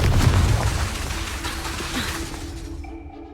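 A Confringo spell explosion in the wizarding game Hogwarts Legacy: a deep booming blast at the start that rumbles and fades, leaving a faint ringing magical tone trailing off at the end.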